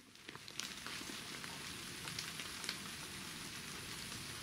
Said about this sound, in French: La pluie fait beaucoup trop de bruit.